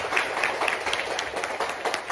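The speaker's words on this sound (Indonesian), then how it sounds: "Kita tepuk tangan dulu untuk semuanya." A seminar audience on flood and drainage solutions in Mamuju claps together in a soft, steady patter of many hands, fairly distant and even throughout.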